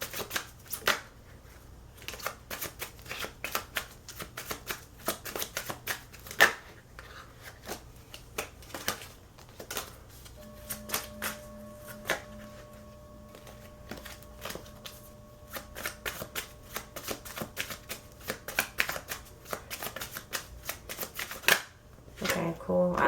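A deck of tarot cards is shuffled over and over in rapid riffling, flapping bursts that run almost throughout, close and fairly loud, with a faint steady hum underneath and brief handling pauses.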